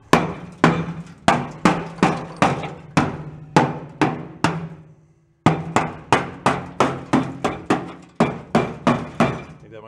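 Repeated hammer blows on the rusty floor of a 1965 Ford Econoline pickup, about twenty sharp metallic strikes in a steady rhythm with one short pause, loud and close, with no talking.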